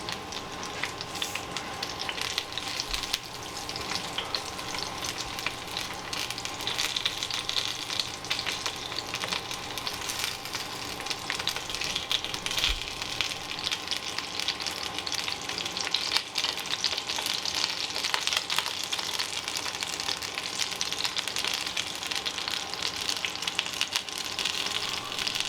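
Sausages browning in a frying pan over medium heat for a casserole, a steady, even sizzle of hot fat running the whole time with occasional stirring clicks, close and moderately quiet, with no talking.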